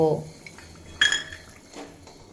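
Fried lentil dumplings being lifted out of a pan of oil bring sharp metal clinks of a spoon against the pan, one loud clank in the middle, over a faint background sizzle.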